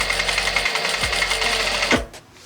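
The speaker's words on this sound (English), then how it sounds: "I'm just going to sew all the way around" A sewing machine stitches a linen top. A fast, even mechanical whir runs close and loud, slows briefly partway through, speeds up again and then stops near the end.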